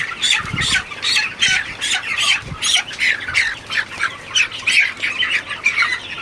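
Hybrid chickens squawk loudly and repeatedly in harsh, rapid bursts as one is caught, with occasional flapping and scuffling close by.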